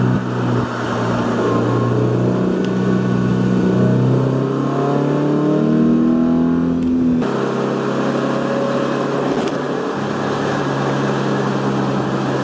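A Porsche accelerates onto a highway, its engine note climbing steadily through the gears with a loud, continuous drone and road rumble, a brief shift break midway, then settling into a sustained cruise.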